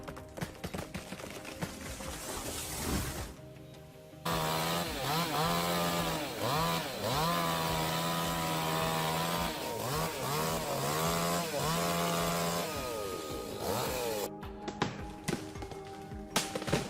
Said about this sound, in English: I think the chainsaw will tell you.